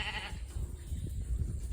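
A farm goat gives a short, nasal bleat at the start, followed by low rumbling barnyard noise close by.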